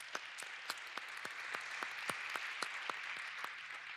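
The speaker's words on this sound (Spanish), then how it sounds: "¿Por qué no les damos un aplauso a todos ellos de agradecimiento?" An audience applauds volunteers, a faint, distant wash of clapping with a few sharper individual claps standing out at a fairly steady pace.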